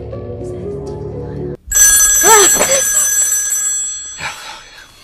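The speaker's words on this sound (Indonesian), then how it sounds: "Graham pun disadarkan dengan dering telepon dari orang misterius yang diyakini adalah Ray." Telephone ringing loudly in the film Signs, a sharp electronic bell tone bursting in after a quieter passage, sustained for a couple of seconds then repeating briefly, close and dominant.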